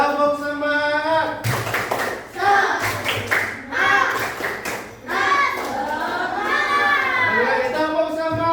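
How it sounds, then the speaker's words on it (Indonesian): A group of children in a classroom claps together in a rhythmic pattern, bursts of close hand claps mixed with chanting voices. "Oke, tepuk tangan semuanya."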